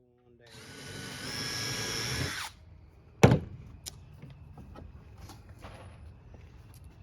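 A cordless drill whirs for about two seconds as it drives a drywall screw into wood, followed by a sharp knock and scattered clatter, close up, with a voice nearby.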